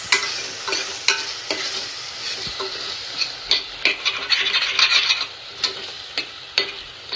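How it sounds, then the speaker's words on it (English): Ginger, garlic and coconut paste stirred and frying in a pan with spices for mango mutton curry, a steady sizzle broken by repeated scraping strokes of a spoon against the pan, close and fairly loud. "Now mix it well."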